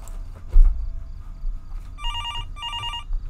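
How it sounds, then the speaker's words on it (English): A telephone bell rings in the Fears To Fathom horror video game, two quick trilling bursts arriving after a stretch of low ambient hum, fairly clear and with no talking. "And that's the phone."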